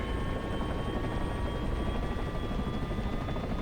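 OH-6A light helicopter in DCS World with its turbine spooling up as the throttle opens: a steady, loud turbine whine with high tonal lines over a dense low rumble, continuous and unbroken.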